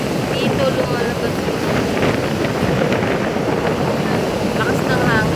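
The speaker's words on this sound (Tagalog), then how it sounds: "Lakas ng hangin." Strong wind by the sea in Manila buffets the microphone in a loud, continuous rush, with a low rumble underneath and voices faintly heard through it.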